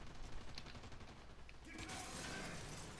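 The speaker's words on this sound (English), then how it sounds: "Oh, where did I just get shot from?" Bursts of gunfire in the military shooter game America's Army: Proving Grounds. They sound as a dense, rattling fusillade over a few seconds, swelling louder toward the end, with voices faintly present.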